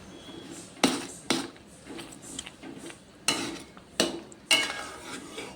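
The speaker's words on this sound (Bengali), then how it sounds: "ভালো করে নাড়াচাড়া করে নেব," Chalta (elephant apple) pickle being stirred in a pot, giving several sharp scraping clanks of a utensil against the metal at uneven intervals, with softer shuffling and scraping between them.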